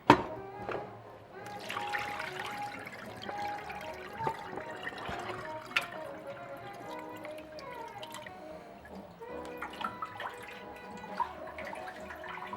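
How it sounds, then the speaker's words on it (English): Beet-dyed fabric is wrung out over a sink, with dripping and splashing water, wet squeezing and scattered clinks at close range, mostly alone with little background noise. "Now we're gonna wring it out."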